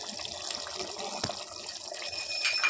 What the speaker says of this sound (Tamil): இப்போ இதில் ஒரு லெமன் ஜூஸ் ஆட் பண்ணிக்கலாம்.